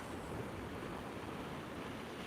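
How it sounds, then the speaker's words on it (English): Sea waves washing onto the shore at Blackpool on a very windy, rainy morning, a steady broad roar of surf with wind noise over the microphone, continuous and fairly close, no voices. "Don't know whether you can hear the waves, but it actually sounds lovely"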